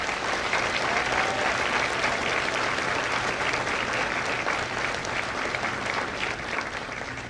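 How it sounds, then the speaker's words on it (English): Audience at a Marine Corps recruit graduation ceremony applauding the drill instructors, a steady, dense round of clapping from a large crowd lasting several seconds and tapering slightly at the end. "let's give a round of applause to the drill instructors."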